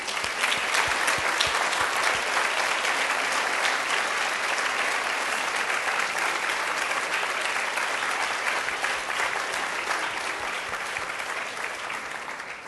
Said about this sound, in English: Now we applaud.